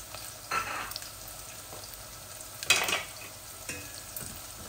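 Four or five garlic cloves fry in oil in a cooking pot, giving a soft, steady sizzle broken by a few brief stirring scrapes, the loudest near the middle, close by and without talking.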